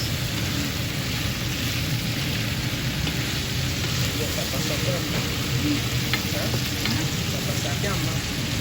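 Crisping bacon and freshly added zucchini sizzle loudly and steadily in a pan on medium-high heat while being stirred, a dense continuous frying hiss with faint scraping beneath.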